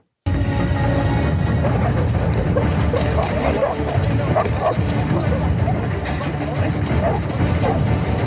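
Tracking dogs bark and yip repeatedly, loud and close, beside the waterways. Busy crowd chatter and the hum of a boat run underneath.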